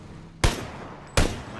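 Two loud, sharp gunshots from the video game PUBG on PS4, spaced under a second apart, each cracking across the whole range and trailing off in a brief echoing decay over a low background hum, with no talking.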